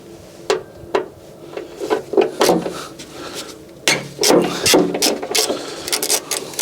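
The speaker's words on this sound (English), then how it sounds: "I'm going to loosen these bolts off" Bolts are loosened on a 2011 Fiat 500, with a tool ratcheting and clanking in a run of sharp metallic clicks and knocks, close and irregular, with no speech.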